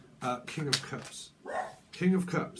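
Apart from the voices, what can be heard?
dog barking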